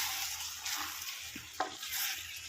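Lemon pickle with vinegar is stirred in a pan with a spoon, scraping gently over a soft, steady sizzle at low volume.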